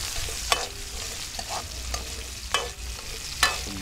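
Onion being stirred and sautéed in a pan during outdoor cooking of pancit spaghetti, with a faint steady sizzle broken by several sharp scraping stir strokes spaced about a second apart, close by and without talk.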